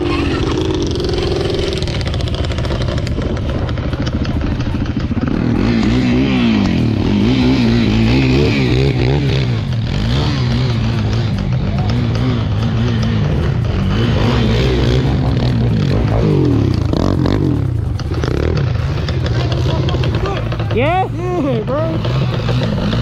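A street-legal Yamaha Banshee 350 quad ridden in snow, its two-stroke engine droning and revving loudly and steadily throughout, with rising pitch sweeps near the end and people talking over it.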